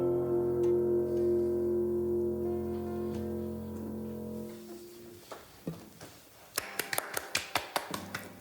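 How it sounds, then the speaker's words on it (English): Performers clap, snap and tap to make their own applause after a song, starting as faint scattered taps beneath fading sustained musical tones, then building into a quick series of sharp, close snaps and claps. "We have to make our own applause."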